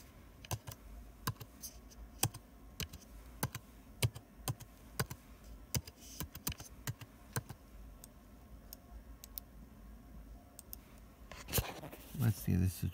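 Password being typed on a computer keyboard, a steady run of separate key clicks at an even pace over about ten seconds, ending in a louder burst of handling noise.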